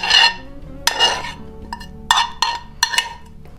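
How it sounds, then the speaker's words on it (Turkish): Sautéed onions tipped onto spinach in a pan, giving a few distinct clattering knocks and scrapes of utensil on cookware spaced across a few seconds, close and fairly loud with no talking. "sotelediğimiz soğanları ilave ediyorum"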